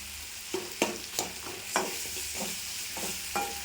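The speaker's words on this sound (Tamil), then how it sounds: "இந்த தக்காளி நல்லா மசிய வேகணும்" Onions and tomatoes sautéing with salt and turmeric in a pan, a soft continuous sizzle broken by repeated close scrapes and knocks of stirring.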